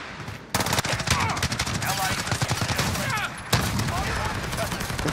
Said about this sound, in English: I shot him like 15 times!